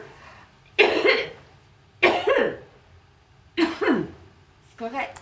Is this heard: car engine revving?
no